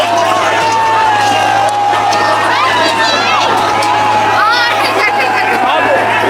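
A large crowd of students in Ranchi being dispersed by a police water cannon: loud, dense, continuous shouting and clamoring voices with high whooping cries rising throughout.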